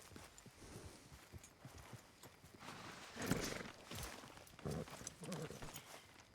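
Horse hooves clip-clop at a walking pace in a video game, faint and fairly close. A few louder bursts of hoofbeats and a brief whinny rise up partway through.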